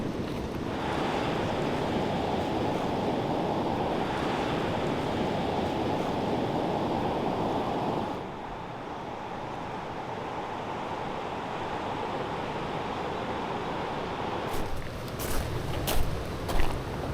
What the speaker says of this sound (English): Oh wow, the sound of the ocean.